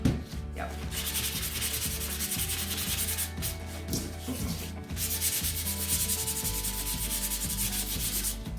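Sandpaper rubbing back and forth across painted laser-cut wood in steady, close strokes, with a few short pauses and no talking.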